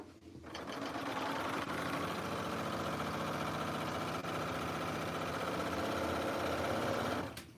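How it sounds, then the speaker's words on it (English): Domestic sewing machine stitching the side seam of a plus-size fall dress, running steadily and loudly for about seven seconds with a constant mechanical whir and rapid needle rhythm, alone without talk. "So I am going to go ahead and sew my side seam shut"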